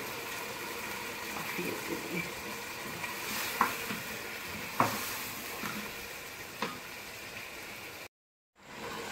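Chickpea masala fries in a pot as a spoon stirs it, with a steady sizzle and a few distinct scraping clacks against the pot, then a brief cut to silence near the end.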